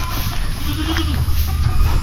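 Goats bleat in a goat house on a farm, one close wavering bleat rising over a steady low rumble of background noise in a short, loud burst.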